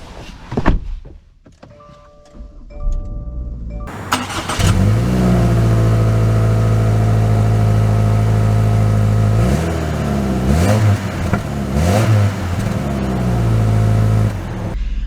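A 2024 Subaru Crosstrek Wilderness starts up after a few quiet clicks and power window whirs, then pulls away with its engine rising through repeated revving surges. The engine is close, loud and steady, with no talk over it.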